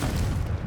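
Confringo blasting spell explosion in Hogwarts Legacy, a short, loud, deep boom lasting under a second with a dense low rumble.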